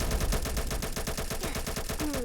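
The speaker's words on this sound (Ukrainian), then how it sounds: "Туди стріляють." Rapid automatic gunfire from a Roblox war game rattles in a dense, continuous burst of evenly spaced shots, loud and close, with no voices.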